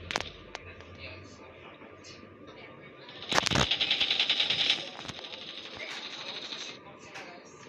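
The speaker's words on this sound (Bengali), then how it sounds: "ওখান থেকে গুলি করছে, পিছন থেকে, আমার পিছন থেকে।" Rapid bursts of automatic gunfire in a video game crackle in short volleys, one long loud stretch in the middle, with a person talking over it.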